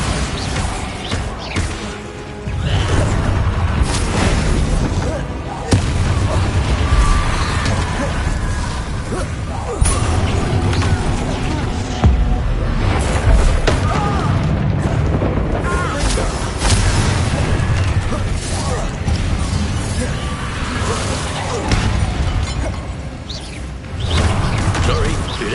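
The Bombarda explosion spell from Hogwarts Legacy booms and crashes through a busy combat scene, with heavy blasts and rumbling debris layered over a constant dense game soundscape and some voices.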